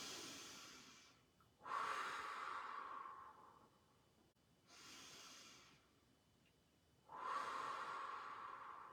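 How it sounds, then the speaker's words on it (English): Slow deep breaths drawn in through the nose and let out through the mouth, part of a guided tapping relaxation exercise; four long airy breaths alternate in and out, close and fairly loud, with no talking. "3 deep breaths in through the nose, and you kind of hold a little at the top, and then a long breath out through the mouth"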